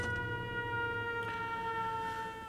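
A wailing siren in Fallout 4 sounds loud and steady with sustained tonal harmonics, briefly dipping and rising again, heard alone without voices.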